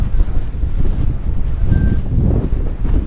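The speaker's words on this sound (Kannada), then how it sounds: "ಇಲ್ಲಿ ಸಿಕ್ಕಾಪಡೆ ಗಾಳಿ ಇದೆ" Heavy wind buffets the microphone with a continuous low roar, rising and falling slightly in gusts.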